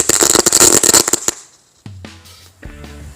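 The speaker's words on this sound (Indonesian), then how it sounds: "Mercon tikus." A ground spinner firecracker fizzes and crackles loudly with rapid popping bursts, then fades into quieter scattered sounds and low hums.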